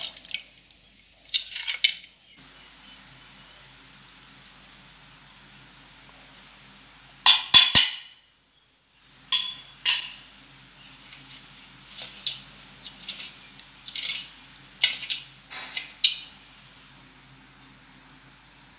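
A spoon clinks and scrapes against a metal vessel in bursts while sugar and cardamom powder are mixed into colostrum. Quiet gaps fall between the clatters, which are close and fairly loud, with no talking.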